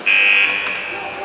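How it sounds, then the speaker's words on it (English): A loud electronic buzzer at an ice hockey rink during a youth women's game blares for about half a second, then its tone lingers faintly under arena noise. "And we'll hear the buzzer in a moment."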